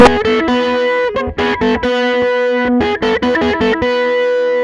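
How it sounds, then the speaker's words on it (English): A distorted Teye Coyote electric guitar on its bridge pickup only plays a quick run of sustained, bright notes with an effected tone, loud and up close throughout. "You will hear that this is actually just the bridge pickup on."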